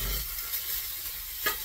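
Soft steady sizzle of hashbrowns frying in a carbon steel pan, with a light stir or scrape near the end, close and quiet with no talk.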